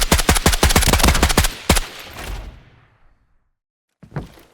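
A new gun in the shooter game Arena Breakout Infinite fires a rapid automatic burst of about a dozen loud, punchy shots, then a single last shot whose echo fades to silence before a brief mechanical clack.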